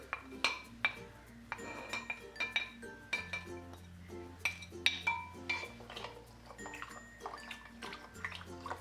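Spice powders are mixed into water for pani puri, with a spoon clinking repeatedly against the vessel and water sloshing in an uneven rhythm, close and clear.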